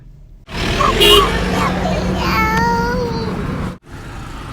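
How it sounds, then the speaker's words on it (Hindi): A cat meows a few times inside a car on a road trip, close and loud over the steady low rumble of the moving vehicle, with a brief break near the end. "हाँ, आप कायरा देखिए, ये मेरा माँ बिल्ली."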